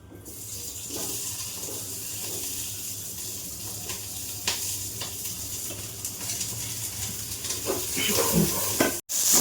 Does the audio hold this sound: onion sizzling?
yes